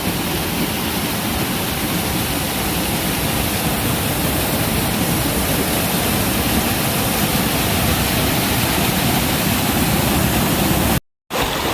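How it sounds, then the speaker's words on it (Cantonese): A waterfall on a rocky mountain stream swollen after several days of rain roars steadily and loudly at close range, a dense unbroken rush of water with no voices, cut off briefly near the end. "我睇個瀑布先。"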